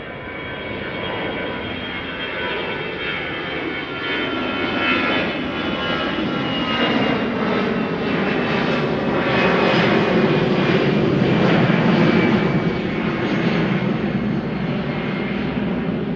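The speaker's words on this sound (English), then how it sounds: "EasyJet A320 to Liverpool." An EasyJet Airbus A320 jet takes off from Schiphol, its engines giving a steady, loud roar that builds slightly and holds throughout without speech.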